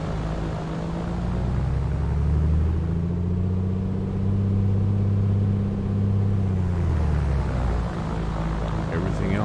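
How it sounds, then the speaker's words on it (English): A2A Piper Comanche piston engine in a flight simulator drones steadily and loudly with a dense propeller hum; its pitch sags and then recovers as the props are cycled, with no break across the whole stretch. "let's cycle the props. RPM drop, manifold increase."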